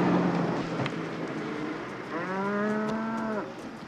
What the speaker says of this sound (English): Thanks for picking up them 2 steers